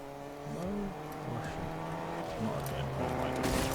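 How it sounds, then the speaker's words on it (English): A car's engine drones and shifts in pitch as it approaches in a video game, with rising revs and tire noise, while a person talks over it. "it's not long until I hear the sound of a car approaching"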